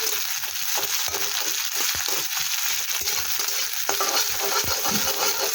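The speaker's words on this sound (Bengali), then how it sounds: "পেঁয়াজটা কিছুক্ষণ ভাজা হয়ে গেলে" Onion fries in a pan with a continuous hissing sizzle while a utensil scrapes and clatters in an irregular stirring rhythm, close and fairly loud, without any talking.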